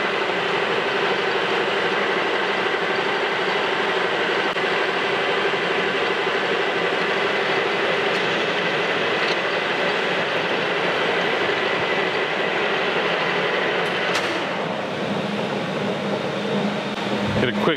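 A metal lathe turns a cross feed screw, giving a steady loud mechanical whir and hiss that runs continuously, with a brief sharp scrape near the end.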